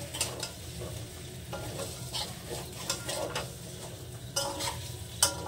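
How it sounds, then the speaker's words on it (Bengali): Boiled potatoes stirred and fried with spices in a pan, a continuous sizzle under irregular scraping and clinking of a spoon on metal, close by, without speech. "এবার সুন্দর করে নেড়ে চেড়ে কষে নেব।"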